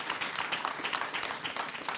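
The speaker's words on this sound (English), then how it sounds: "please, round of applause for our panelists, Deepak, Esther, Sam, and Joe" An audience applauds panelists at the close of a Supreme Court preview event, a dense, even wash of clapping from a crowd that holds steady for the whole stretch.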